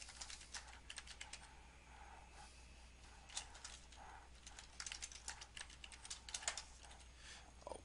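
Quiet, close keystrokes on a computer keyboard as a password is typed, irregular bursts of clicks with short pauses between groups, with no talking.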